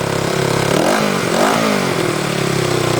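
A 33-year-old Honda CB360T motorcycle after a tune-up of points, timing and valve gap runs steadily at a loud, close, even idle, a continuous engine drone with no talk over it.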